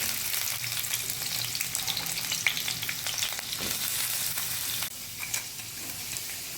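Chopped onions fry in hot oil in a pan on a gas stove, a dense, steady close sizzle with a few faint scrapes, dipping slightly in level near the end.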